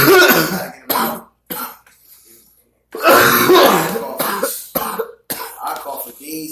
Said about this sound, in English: Damn, I can't even stop coughing.